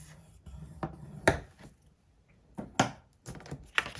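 Paper being scored with a scoring tool for a stacked pocket mini album, giving a few short, close scraping and rubbing strokes separated by brief pauses, with no talking.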